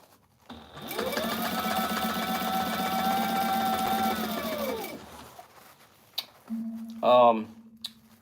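A sewing machine stitches tactical gear in one steady, fairly loud run of about four seconds, followed by a few short mechanical bursts and brief handling noises near the end.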